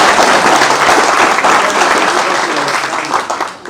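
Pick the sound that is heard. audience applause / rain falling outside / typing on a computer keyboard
audience applause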